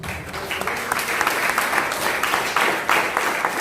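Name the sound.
congregation clapping for the Lord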